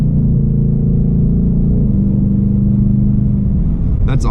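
A 2021 Ford Mustang Mach 1 with a 10-speed gearbox, its engine rumbling deep and loud under light throttle, holding a steady low drone before easing off.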